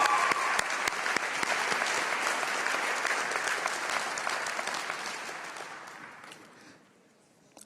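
Applause for the top 10 scholars at a New Tech High School graduation, a dense, fairly loud burst of crowd clapping that holds steady, then tapers off and ends after about seven seconds.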